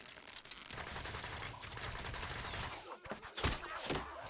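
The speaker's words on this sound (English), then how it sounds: "Look at that salvo." A salvo of missiles in a Vinland Saga anime battle: a dense, continuous barrage of rapid blasts and crackling impacts, ending in a few sharper separate bursts.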